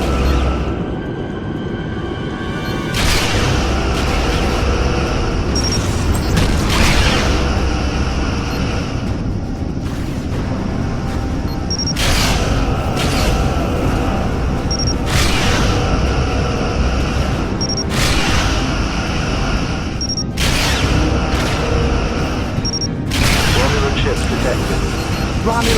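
Starship weapons fire and explosions in the Star Trek Legacy space combat game, loud broadband blasts recurring every few seconds over a constant rumbling battle bed, with spoken voice lines in places.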